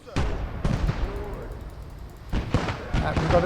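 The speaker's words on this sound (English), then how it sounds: "That's some kind of anti-tank gun." In the World War II video game Kelly's Heroes, an anti-tank gun fires a few heavy, booming shots. They come in close pairs with a short lull between them, and battle noise continues underneath.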